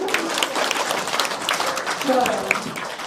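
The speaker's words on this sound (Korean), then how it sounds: "자 우리 박수" An audience at a youth-centre careers talk on the aviation industry breaks into steady applause lasting a few seconds, with a speaking voice rising over the clapping.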